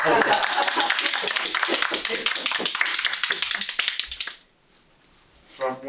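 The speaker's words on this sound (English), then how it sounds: "Let's give her a big round of applause." Applause from an audience at a Toastmasters meeting: dense, steady clapping from many hands close by for about four seconds, then stopping abruptly, followed by near silence and a faint voice.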